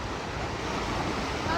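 Ocean waves break continuously on Sherwood Beach, Oahu, a dense, steady roar of surf mixed with wind buffeting the microphone, loud and close.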